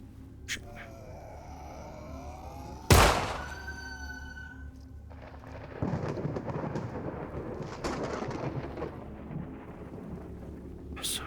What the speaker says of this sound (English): It's a very thematically timed thunder game.